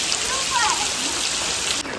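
Heavy downpour in a village, a dense, steady hiss of rain pouring down close by with no letup throughout.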